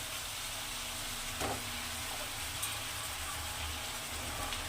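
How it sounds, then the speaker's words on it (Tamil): Vegetables sautéing in a kadai for sambar give off a soft, steady sizzle with faint stirring scrapes, quiet and continuous, without any talk. "இதையும் நல்லா வதக்கி விட்டுக்கோங்க"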